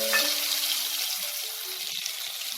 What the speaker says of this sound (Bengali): এবার আমি এই তেলে নুন, হলুদ আর শুকনো লঙ্কা মাখিয়ে নেওয়া 4 পিস আলু, এটাকে আমি হালকা ফ্রাই করে নেব।